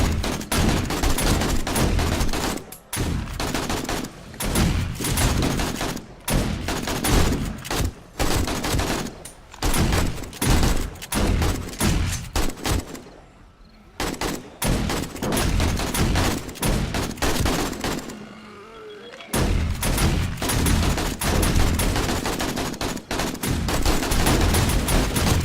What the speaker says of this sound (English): I do hear some shotguns off to the right of us